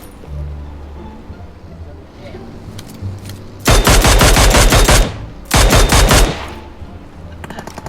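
Automatic gunfire in the PUBG Mobile video game comes as two loud, sustained bursts of rapid shots, each lasting over a second, after a quieter stretch of low rumbling game ambience.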